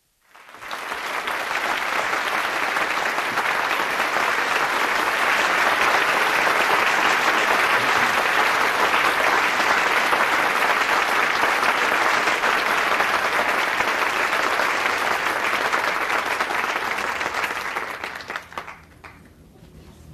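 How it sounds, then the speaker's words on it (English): Loud, sustained audience applause fills a hall at a gathering just before a rabbi begins his speech, steady and dense for about seventeen seconds before tapering off quickly at the end. "You clap so loudly before I begin, can you imagine what's going to happen when I end?"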